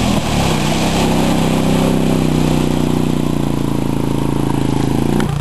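A mud truck's engine revs hard in fourth gear while it ploughs through a mud hole. The drone is loud and steady for the whole stretch, with no talk over it.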